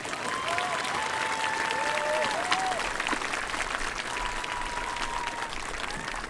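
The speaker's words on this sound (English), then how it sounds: "a round of applause" Sustained applause from a graduation ceremony crowd, dense and even for over six seconds, with faint tonal whistles or cheers drifting above the clapping.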